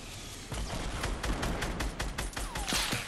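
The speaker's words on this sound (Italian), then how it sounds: "Si stanno sparando qui davanti" Gunfire in the Fortnite video game: a rapid spread of sharp shots starting half a second in, some overlapping in bursts, fairly close and loud throughout, with no talk.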